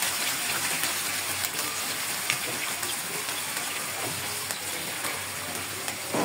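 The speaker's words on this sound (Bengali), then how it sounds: "এরপর আমি এই চিকেনটা কোনো মশলা ছাড়াই আমি এই চিনির শিরার মধ্যে ছেড়ে দিব।" Chicken pieces frying in hot oil with sugar syrup, a steady dense sizzle with watery bubbling that runs loud and continuous throughout, close up with no voices.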